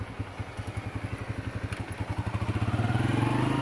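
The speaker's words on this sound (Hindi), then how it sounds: "बाइक हो गया जी हमारा स्टार्ट" Motorcycle engine idling just after starting, a close, steady thumping putter of regular beats that quickens slightly and grows a little louder toward the end.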